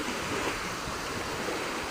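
Typhoon surf breaks along the shore in a dense, steady roar of wash and spray, loud and continuous for two seconds with no voices.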